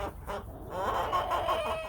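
Two red hens at a farm give a run of soft, close clucking and throaty murmurs, continuous over a faint outdoor background.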